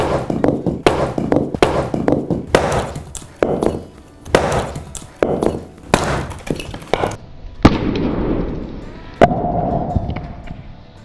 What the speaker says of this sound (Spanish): Yo sigo aquí picando leña.